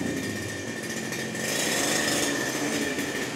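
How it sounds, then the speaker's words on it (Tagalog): Kawasaki grass cutter engine running steadily during a test, a loud continuous buzzing drone that swells slightly partway through, with no talk. "Grass cutter na Kawasaki Kaas."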